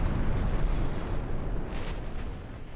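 Heavy rumbling gunfire from 16-inch battleship guns in the naval game Ultimate Admiral Dreadnoughts, a continuous deep roar of distant blasts rolling together, with a couple of sharper cracks near the end.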